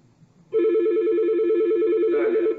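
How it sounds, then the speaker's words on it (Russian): A Yeastar S-series IP PBX handles a call between two IP phones, and the extension rings with a steady, continuous electronic trill lasting about two seconds. It follows a brief quiet moment and is close and loud, with no talk over it. "Так, звонок пошел."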